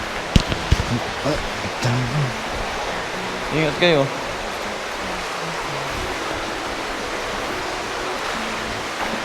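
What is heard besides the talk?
river water flowing down from the falls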